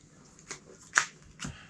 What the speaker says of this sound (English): I'm going to shuffle everything again